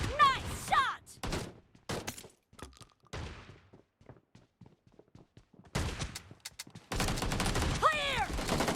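Sharp gunshots crack out in bursts in a BGMI shotgun team deathmatch, loud transients clustered at the start and end with quieter stretches between, while players talk over the action.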